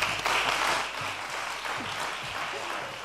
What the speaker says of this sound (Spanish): no, pero aplauso.